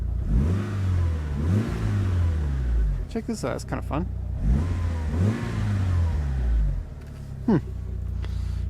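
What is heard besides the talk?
car engine revving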